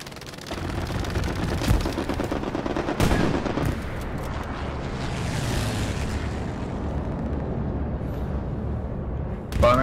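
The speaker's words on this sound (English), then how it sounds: "Bombing run somewhere." Wartime battlefield in Hell Let Loose rumbles with a bombing run: repeated heavy explosions and bursts of gunfire roll continuously, some blasts sharp and close, others distant, with the din barely letting up.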